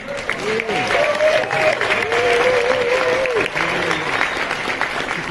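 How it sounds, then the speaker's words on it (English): Audience applause at a summit presentation, a dense steady wash of clapping lasting throughout, with a few whoops and voices ringing over the top. "You can give applause, it's fine."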